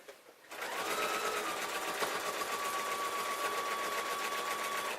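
A sewing machine fitted with a walking foot runs steadily, stitching a denim jeans waistband, its fast even whir starting after a brief quiet moment and continuing unbroken, close and alone.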